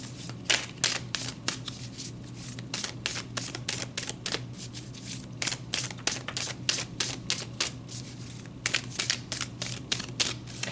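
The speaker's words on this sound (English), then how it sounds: "So let's pull some more cards." Tarot cards are shuffled and pulled in rapid bursts of crisp riffling clicks and flutters, close up with a steady low hum beneath and brief pauses between runs.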